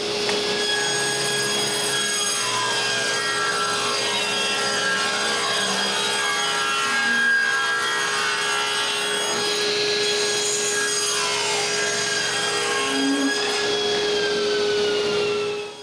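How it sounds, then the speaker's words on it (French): Wooden boards for a nine-drawer dresser are cut with a power saw, producing a continuous loud, close whine with a steady high tone and grinding texture that holds without pause for about fifteen seconds. "Maintenant, je dois les couper à la bonne hauteur."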